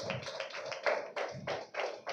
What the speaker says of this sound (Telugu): అందరూ దానికి గట్టిగా చప్పట్లు కొట్టండి